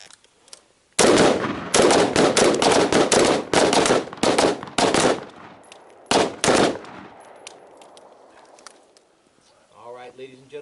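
Rifles fire at targets during a night shoot at Valor Ridge, sending loud, rapid volleys of overlapping shots in two main clusters with echoing tails, then a voice briefly at the end.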